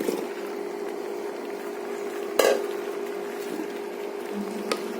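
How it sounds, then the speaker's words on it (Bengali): Cut cucumbers being stirred with tomatoes and spices in a pan, soft low scraping and a faint hum, with one sharp utensil knock against the pan midway and a lighter tap near the end. "একটু নেড়ে চেড়ে মিক্সড করে দিচ্ছি টমেটোর সাথে শসাগুলো আর মশলাগুলো"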